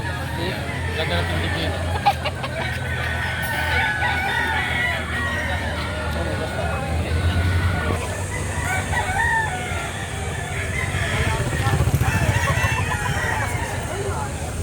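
Roosters for sale at a market crow and cluck repeatedly, close and distant, over a steady babble of crowd chatter.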